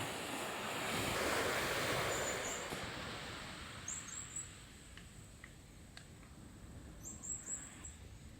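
Waves rolling onto Mandel Beach in Sulawesi, a soft distant surf wash that swells and fades, with faint bird chirps in the background and light wind.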